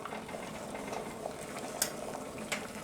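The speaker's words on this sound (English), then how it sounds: "it sounds like it's boiling now" Rice water in a pot comes to a boil, a steady soft bubbling wash with a few faint clicks, like a spoon or lid touching the pot, running evenly throughout.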